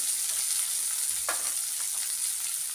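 Soaked rice frying in a pan, a faint steady sizzle with a brief stir partway through, close and quiet with no talking.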